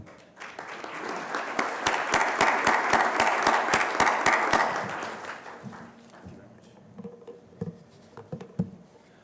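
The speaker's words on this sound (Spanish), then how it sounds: "Pues démosle un fuerte aplauso a Ben." A seminar audience claps for a speaker, dense applause swelling for several seconds and then thinning out to scattered individual claps, heard from within the room.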